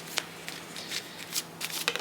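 Playing cards shuffled by hand for a tarot-style reading, a series of soft, close riffling and slapping bursts spread irregularly over a couple of seconds, fairly quiet, with no talking.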